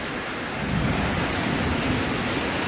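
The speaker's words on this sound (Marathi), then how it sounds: "जोरदार पाऊस." Heavy rain from a sudden storm pours down in a dense, steady hiss that swells slightly after the first moment and stays loud throughout.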